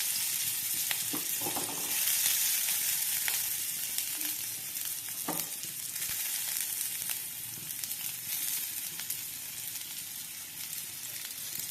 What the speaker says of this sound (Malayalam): അപ്പോൾ കുറച്ച് ഉള്ളി മുറിച്ചത് ഇതാക്കി കൊടുക്കാം.